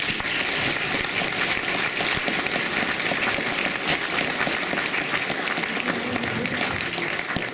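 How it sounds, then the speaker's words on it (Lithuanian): Audience applause after a performance by a young girls' kankles ensemble, a dense, steady wash of many hands clapping that stays loud and even from start to finish. "Plojimai."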